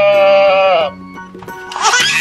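A sheep gives a single loud, wavering bleat close by, followed by quieter farm sounds and a brief second animal cry near the end.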